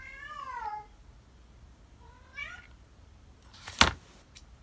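A cat meows twice nearby, a long drawn-out call followed by a shorter one after a pause, with a sharp knock or thump shortly afterward in a quiet room.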